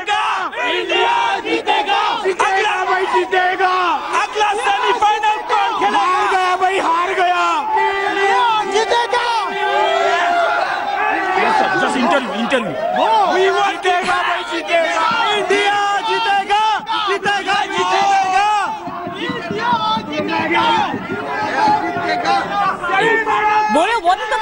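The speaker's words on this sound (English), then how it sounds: "Okay, let's have a cheer." Indian cricket fans at a World Cup quarter-final cheer loudly for India, a dense crowd chanting and shouting continuously in close, energetic unison.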